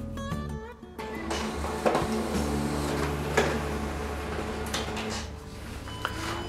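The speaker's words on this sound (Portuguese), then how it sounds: "E já vou apertar aqui o iniciar que ficou aqui no painel da impressora." A Ricoh M320 laser printer runs a double-sided ID card copy, a steady mechanical hum with whirring rollers and soft clicks and thuds of paper moving through, close and fairly loud, with no talking.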